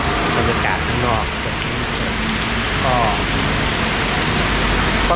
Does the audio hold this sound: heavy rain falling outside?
yes